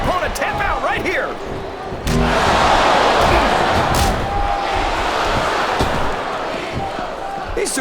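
An arena crowd roars in WWE SmackDown vs. RAW 2007 during a tag match with Undertaker, Triple H, Carlito and Bam Bam Bigelow, a loud sustained swell of cheering after a slam, with commentators talking over it.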